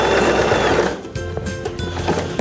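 A Janome 2032x sewing machine ties off its stitching with a bar-tack-style run. A steady mechanical whir sounds up close, then eases into lighter clicks and taps as the machine slows.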